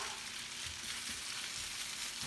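Potatoes frying in a pan, shown on a home cooking show, give a steady, dense sizzle that holds at an even level throughout with no talk.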